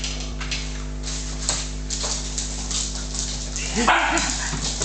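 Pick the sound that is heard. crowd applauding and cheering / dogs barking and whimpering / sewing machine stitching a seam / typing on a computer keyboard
dogs barking and whimpering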